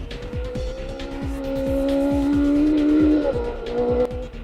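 Rally car on a gravel stage of the 2019 Argyll Rally near Dunoon, engine revving hard with a rising whine and a sustained tyre squeal over repeated rhythmic popping, loud and close throughout.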